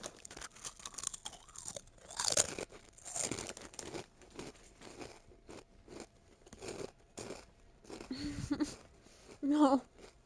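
Crunchy snack being chewed loudly close to a microphone, irregular crackling bites and crinkles scattered between stretches of a person talking while playing Roblox.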